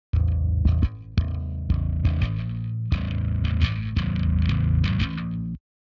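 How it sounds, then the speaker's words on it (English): Bass guitar with saturation and distortion blended in, heavy tone: loud, sustained, gritty low notes played in short phrases with brief gaps, alone with no voices. "I'm using this to add saturation and distortion to the bass"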